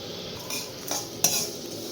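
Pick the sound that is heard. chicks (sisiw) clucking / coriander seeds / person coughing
coriander seeds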